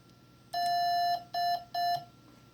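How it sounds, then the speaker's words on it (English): Morse code letter D sent at 6 words per minute as a clean electronic sidetone: one long dah followed by two short dits, evenly spaced and loud against a quiet background. "Let's listen to the letter D at 6 words a minute."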